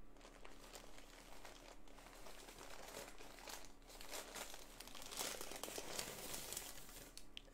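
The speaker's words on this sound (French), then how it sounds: "je vais continuer de déballer mon colis" Packaging crinkles and rustles close up as a parcel is unwrapped, a steady papery crackle throughout that grows slightly louder and busier toward the end.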